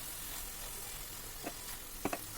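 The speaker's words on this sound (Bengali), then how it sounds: "গাজরটা ততক্ষণ ভাজতে হবে যতক্ষণ না গাজরটা থেকে জল শুকিয়ে যায়" Grated carrot frying in a pan before a cup of room-temperature milk goes in, a steady close sizzle with a couple of brief soft knocks near the end.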